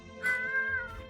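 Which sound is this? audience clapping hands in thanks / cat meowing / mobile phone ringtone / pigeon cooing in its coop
cat meowing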